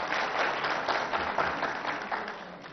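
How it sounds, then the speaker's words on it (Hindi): Studio audience applauding to welcome India's revenue secretary as a guest on a televised discussion about GST, a dense, steady wash of clapping that holds across the whole stretch at moderate loudness. "आइए उनका हम स्वागत करें, हम सब मिलकर तालियों के साथ।"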